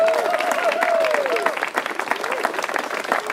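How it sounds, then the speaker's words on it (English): An outdoor crowd at a green festival opening ceremony gives a round of applause, with dense clapping and some cheering and voices over it that gradually thins toward the end. "Let's give them a round of applause."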